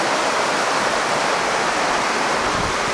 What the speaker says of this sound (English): Big creek.